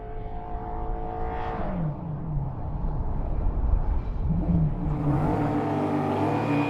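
A Ford Mustang engine revs and pulls away, rising in pitch through gear changes with a steady growl, close and alone without voices.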